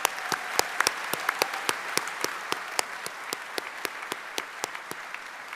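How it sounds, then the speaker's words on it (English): Scattered applause from a small audience at a graduation ceremony, individual claps audible in a loose, uneven rhythm, moderately close and steady throughout. "Big round of applause for that one, I think."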